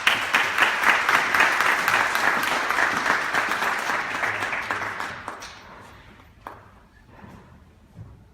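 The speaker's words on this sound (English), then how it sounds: "So please clap it up for Lady Brion." An audience greets poet Lady Brion with sustained applause at a Black arts district talk. The dense clapping is loud and steady at first, then thins and fades to scattered claps.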